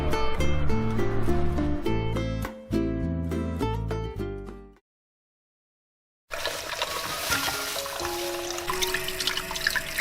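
Fresh chicken feet are rinsed under running water, a steady broadband splash and trickle that starts after a brief silence, following a stretch of music.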